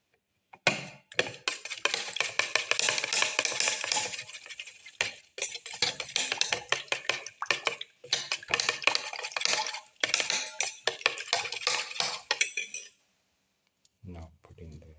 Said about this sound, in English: Mix until it's frothy